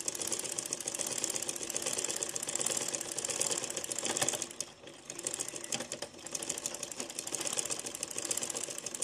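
A sewing machine stitches blouse fabric along marked dots, running close and loud with a fast rhythmic clatter that briefly slows and pauses midway, then picks up again.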